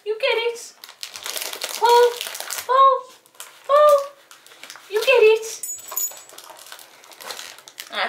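A dog whimpers in short, high, tonal bursts while playing a pulling game, several separate whines over about eight seconds, close by, with crinkling and handling noise in between and a person speaking at times.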